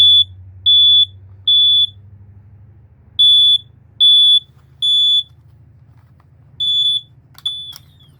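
A hardwired SS2795 smoke detector with battery backup sounds during a test: loud, shrill beeps in groups of three, separated by short pauses, over a low background hum.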